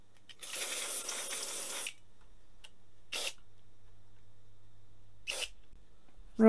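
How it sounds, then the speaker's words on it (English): Aerosol can sprayed onto a Fluke 73 multimeter under repair: one long hissing burst lasting over a second, then two short, sharp puffs, close and clear in a quiet room. "And a little splash of the aerosol."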